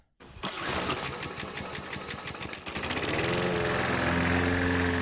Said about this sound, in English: The old starting up of the lawnmower.